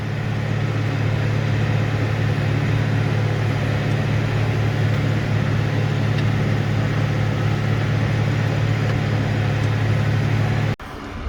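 A tractor towing a trailer loaded with grass bales on new tyres, heading to a tube wrapper; a steady, loud engine drone with a strong low hum runs continuously, cutting off abruptly near the end.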